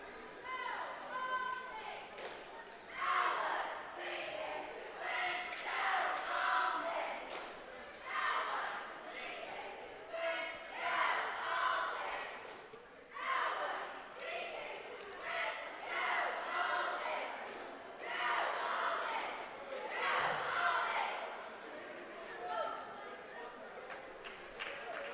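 Ellwood City Wolverine cheerleaders cheer at a boys basketball game against New Brighton, a loud, sustained crowd-and-chant roar in rhythmic bursts filling a gym, with voices shouting throughout.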